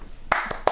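A few sharp hand claps, three distinct close slaps spaced irregularly over a quiet background, with no voices.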